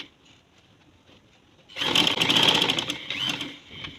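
A sewing machine stitches a polo-style collar on a kurti, starting after a quiet pause and running in one steady, close, loud whirring burst of about two seconds before easing off.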